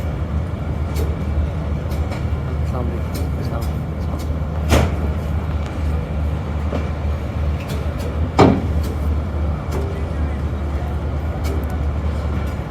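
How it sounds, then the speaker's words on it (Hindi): Awam Express passenger train pulling out of Peshawar Cantonment station: a steady low rumble and rattle of the moving carriages, with two sharp metallic clanks, heard from on board. "डिपार्चर हो गया जी अवामी एक्सप्रेस का पेशावर।"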